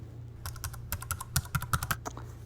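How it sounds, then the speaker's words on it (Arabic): A computer keyboard is typed on in a quick, irregular burst of crisp key clicks, fairly close and alone with a faint hiss behind. "كيبورد واحد يكتب"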